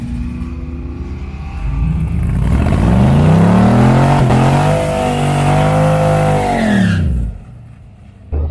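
A V8-swapped Mazda roars away at the drag strip, its loud engine climbing through a sustained rising pull, dipping briefly at a shift, then cutting off abruptly into near quiet.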